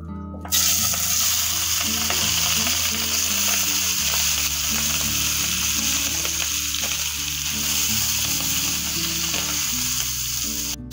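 Fish frying in hot oil for an Odia fish curry, a loud, dense, continuous sizzle with crackling pops that runs close and unbroken the whole time.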